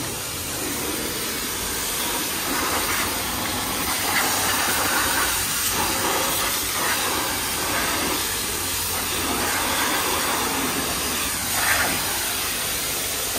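A pressure washer at a self-service car wash blasts water over car floor mats in a steady, loud, unbroken hiss that holds for the whole stretch with only slight surges, no talk over it.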